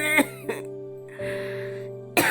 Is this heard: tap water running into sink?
no